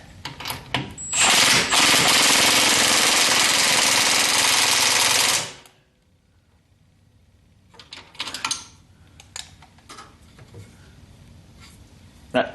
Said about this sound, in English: I get the impact wrench on it with my right.